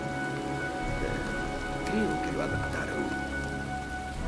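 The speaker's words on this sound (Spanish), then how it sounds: "parece que se avecina una tormenta" Steady rain falls in the Heavy Rain video game, a soft continuous patter running under a calm exchange of spoken dialogue throughout.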